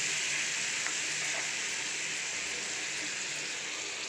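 Ginger chutney paste being stirred into a frying tempering of curry leaves, a steady loud sizzle of hot oil running throughout with no pauses and no voices.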